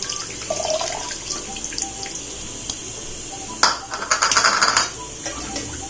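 Dissolved tamarind water poured into a pot of paruppu rasam in a home kitchen, a steady running liquid splash that grows louder and more broken near the end, with a voice speaking faintly.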